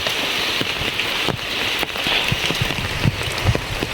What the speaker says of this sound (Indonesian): nggak terlalu besar hujannya